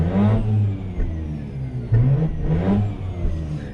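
A 2004 Mazda RX8 rotary engine, just warmed up after a no-start, revs repeatedly at close range, each loud climb falling back between blips with a buzzy, rising pitch.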